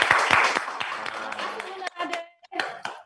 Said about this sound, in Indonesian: Jadi tepuk tangan dulu kan kawan.